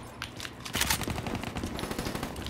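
Rapid gunfire from the video game Call of Duty Black Ops 3 rattles in quick successive shots at moderate volume, a dense burst peaking early then continuing in steady, slightly quieter repetitions.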